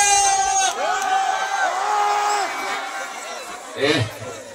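A large festival crowd shouts and cheers in loud, overlapping whoops and yells, with sustained voices rising and falling and a burst of shouting near the end.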